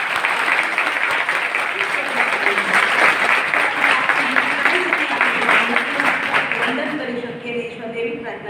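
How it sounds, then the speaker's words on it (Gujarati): A hall audience at a college welcome address breaks into loud, sustained applause that fills the room, tapering off toward the end as a voice begins to speak. "જોરદાર તાળી પાડીએ."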